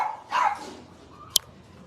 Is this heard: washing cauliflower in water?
no